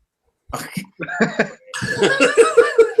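A few short coughing bursts, close and fairly loud, followed by a longer run of rough, laughing-like vocal sounds.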